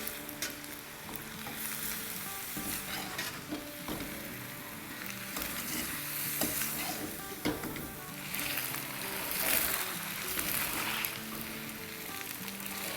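Sriracha chili sauce being stirred into food in a hot wok, steady sizzling and frying with scraping stir strokes, continuous and moderately close, no talking.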